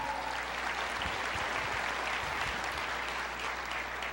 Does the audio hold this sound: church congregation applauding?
yes